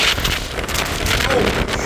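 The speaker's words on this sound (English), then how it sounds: "Literally a gust of wind came." A gust of wind buffets the open deck of the Queen Mary 2 ocean liner, a steady broadband roar of rushing air against the microphone lasting throughout, loud and close, with a voice speaking over it.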